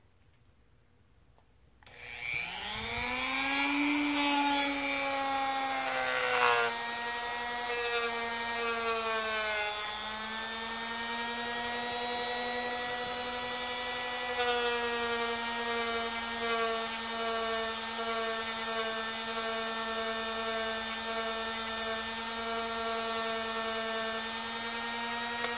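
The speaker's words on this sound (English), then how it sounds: "Then we can get the Dremel out and do some polishing." Dremel rotary tool polishing AK-47 trigger parts, spinning up after a quiet start into a sustained high whine that wavers slightly under load, close and loud throughout.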